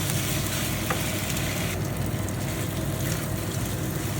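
Sticky sweet rice for biko being stirred through hot cooking oil in a pan, a steady broadband sizzle and frying hiss with soft scraping, continuous and close, no one talking.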